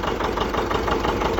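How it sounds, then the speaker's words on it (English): A John Deere 70 diesel tractor engine idles steadily at low revs, a continuous close chugging rumble with even pulsing and no voices. "it just idles away about 700 RPMs, what they're supposed to be idling at"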